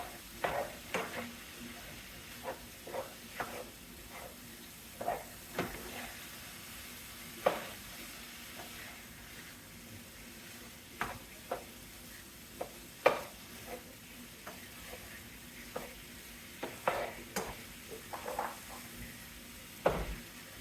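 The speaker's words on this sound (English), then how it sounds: "I am going to mix this flour in and then cook it until I don't see the raw flour anymore" Flour being stirred into a pan and cooked, giving soft scraping strokes and a low sizzle at an irregular rhythm, with sharper clicks of the utensil against the pan now and then and no talk.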